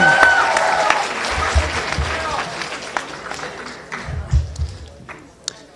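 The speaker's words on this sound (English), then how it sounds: "Can we get another round of applause for that?" Audience applause and cheering fill a school international day assembly after a dance performance, clapping swelling in waves with a few sharp claps standing out, while an announcer speaks over it.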